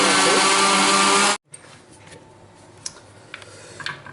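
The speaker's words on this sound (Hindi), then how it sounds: "ब्लेंडर को चला लेंगे।" A kitchen blender whirs loudly as it mixes strawberries with sugar and beaten eggs for a sponge cake, then cuts off abruptly after about a second, leaving faint clicks and quiet handling noises.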